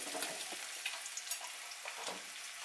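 Vegetables sizzle and crackle steadily in hot oil in a pan while a vegan chickpea salad is being cooked, with a soft, continuous hiss and no talking.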